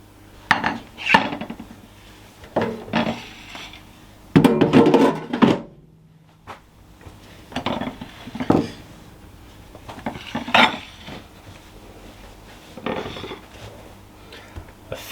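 A tin holding a festive turkey pie is lifted out of an air fryer, with a run of clattering metal knocks, scrapes and clanks at close range, spaced by brief pauses.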